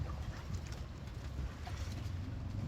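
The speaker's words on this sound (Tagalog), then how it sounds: "Ang lamig dito. Lakas ng hangin." Steady, loud wind blustering across the microphone, a continuous low roar with no speech.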